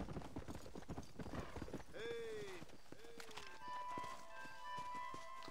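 Rapid hoofbeats of a galloping horse in a video game, with a whinny-like tonal call and game sounds layered over it, fairly busy and steady.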